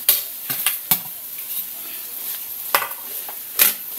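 Fried rice with oyster sauce is stirred in a pan, a spatula scraping and clacking in scattered sharp hits over a faint steady sizzle, with no talking.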